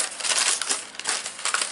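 Newspaper packing crumpled and rustled by hand while unboxing a parcel, a dense close crinkling that continues for a couple of seconds.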